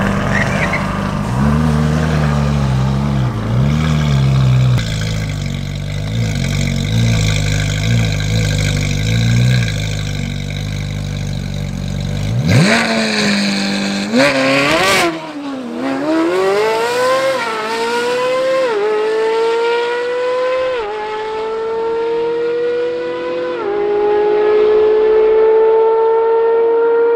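A straight-piped Ferrari Speciale bogs at a drag race launch, its loud engine stuttering and dropping low before revving up in rising gear pulls, close and harsh with a brief squeal.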